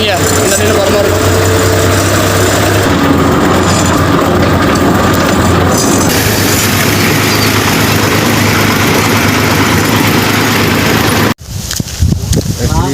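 A tractor engine runs while the vehicle drives out to village farm work: a loud, constant low diesel drone with rattling, continuous under a voice, until it abruptly drops away near the end.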